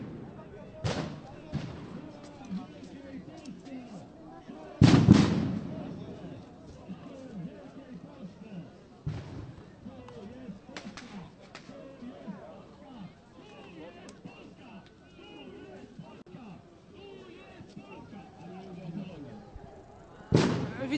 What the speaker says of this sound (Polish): Widać racę, słychać wybuchy.